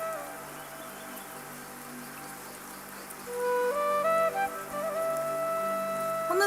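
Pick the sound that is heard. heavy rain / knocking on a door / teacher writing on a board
heavy rain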